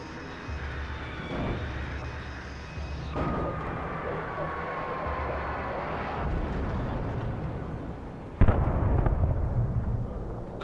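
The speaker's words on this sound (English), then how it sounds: "There goes a helicopter." A helicopter passes in the PS5 video game Alan Wake Remastered, a steady rotor and engine drone with a gliding tonal whine, then a sudden loud boom near the end.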